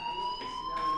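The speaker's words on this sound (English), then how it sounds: "Hey, do you hear that fire alarm?" A fire alarm in the video game Life is Strange sounds as a steady, continuous electronic tone, shrill and unbroken for the whole second, with no talk.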